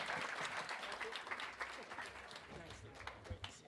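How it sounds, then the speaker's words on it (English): An audience at a film screening and panel conversation applauds in a dense burst of clapping. It fades slightly over the clip, with a voice faintly present under the applause. "Let's give one more round of applause"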